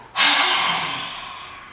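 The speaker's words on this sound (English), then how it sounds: "we're going to put the tongue out, and we're going to breathe through our mouth" A child's lion breath: one forceful, breathy exhale pushed out through an open mouth with the tongue stuck out, close and loud, fading over about a second and a half, with no talking.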